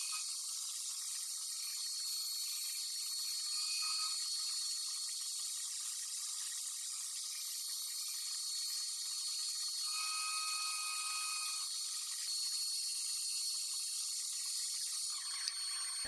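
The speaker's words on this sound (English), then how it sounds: "I put another cork on the lathe and sanded it down to a small cylinder." A wine cork spins on a lathe while being sanded down to a small cylinder. It makes a faint, steady high hiss with a thin whine that rises briefly now and then.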